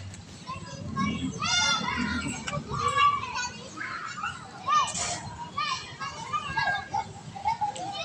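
Children play and shout at a playground in a town plaza, their voices busy and continuous at mid distance, with an adult speaking among the crowd noise.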